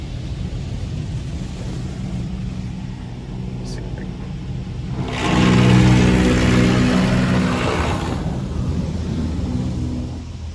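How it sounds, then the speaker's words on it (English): A Laserwash touchless car wash sprays a car from inside the cabin, a steady rushing hiss of water that swells loudly midway and then eases back, over a low engine rumble. "Here you go with that actual laser wash."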